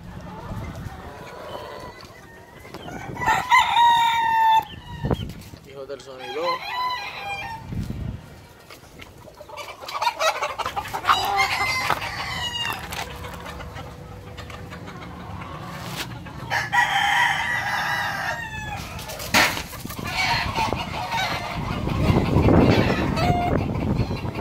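Rooster crowing repeatedly among clucking farmyard fowl, several loud calls spread across the clip with busy chicken noise in between.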